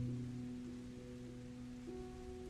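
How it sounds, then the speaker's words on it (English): Steady trickling rain hisses softly through the whole stretch, beneath low sustained musical tones and a hum, with no voices. "The rolling thunder,"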